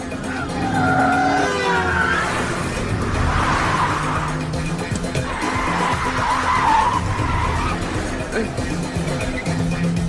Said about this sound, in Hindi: गाड़ी धीरे चलाइए सर, प्लीज गाड़ी धीरे चलाइए।